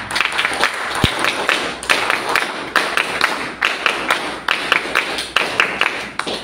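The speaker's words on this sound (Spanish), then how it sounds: "para quien pido un aplauso." Clapping from a conference audience at a book fair, a steady patter of many hands in fairly close, loud bursts with no talking over it.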